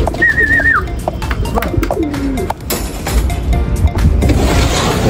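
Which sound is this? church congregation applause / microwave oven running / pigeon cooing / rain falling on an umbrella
pigeon cooing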